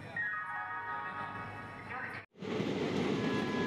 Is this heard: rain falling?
no